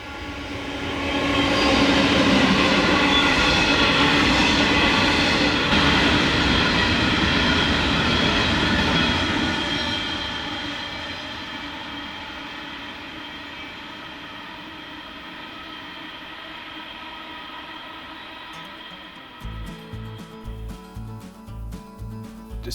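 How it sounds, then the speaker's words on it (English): A heavy empty coal train rumbles past close by, a loud, dense roar of wheels and engines that slowly fades as the cars roll on. "Horizons 3741 leads an empty coal train"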